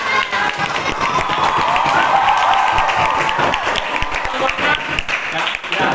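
Schoolchildren in a classroom clap together, a loud, busy patter of many hands with excited voices and shouts mixed through it, continuing to the end.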